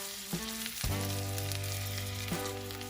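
A ramen noodle and crab meat grilled cheese sandwich fries in butter in a pan with a loud, steady sizzle, broken by a couple of brief handling knocks as the sandwich is moved, and nobody talks.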